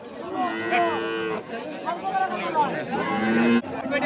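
Cows, including Holstein Friesian dairy cows, moo loudly and repeatedly at a crowded village cattle market, long drawn calls overlapping with background chatter and people talking nearby.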